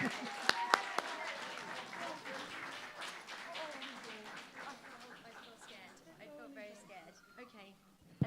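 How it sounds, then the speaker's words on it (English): Enthusiastic audience applause at a live music venue, a dense roar of clapping with a few sharp louder claps near the start, gradually thinning and fading over several seconds as scattered voices rise through it. "give me an absolutely stonking Wembley Stadium round of applause"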